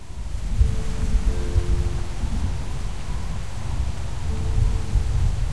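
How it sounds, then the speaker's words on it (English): A low, continuous rumble of thunder in The Walking Dead video game rolls on for several seconds, with faint steady tones floating above it. "I love the thunder that we're hearing."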